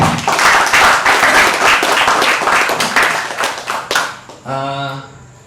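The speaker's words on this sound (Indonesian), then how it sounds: "saya pengen kita tepuk tangan dulu" A crowd applauds, dense clapping filling the room for about four seconds before fading, followed by a brief voice.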